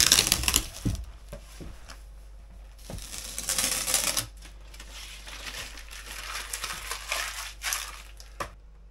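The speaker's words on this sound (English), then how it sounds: "try and take this tape off. The epoxy should have cured by now." Tape is peeled off a cured, epoxy-coated wooden boom for a Drascombe Lugger sailing boat, giving close crackling, crinkling rips in irregular bursts, loudest near the start and again midway.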